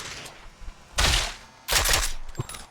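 Two long, loud bursts of rapid automatic gunfire in a shooter game run on an i7 6700K PC, each lasting about half a second, separated by quieter gaps with scattered single shots.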